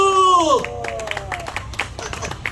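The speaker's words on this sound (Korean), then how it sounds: "박수 한번 주세요" Audience clapping at an outdoor citizens' rally in Jinju, a short, uneven burst of handclaps that follows a loud speaking voice at the start, with faint crowd murmur.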